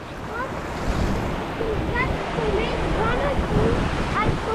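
A river rapids ride at a family park: loud, continuous rushing and churning water spins around a whirlpool, with wind buffeting the microphone and faint voices blended into the roar.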